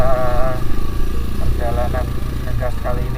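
A motorcycle engine revs in short throttle bursts while riding on a slippery road in a group of three bikes, loud and close with a steady low rumble between rises.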